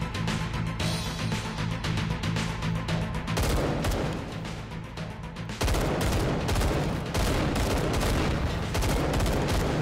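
Rapid gunfire in a VR shooter, Hot Dogs, Horseshoes & Hand Grenades, from a gun without sights: loud, dense bursts of shots and fusillades with a shift partway through, continuous with no talking.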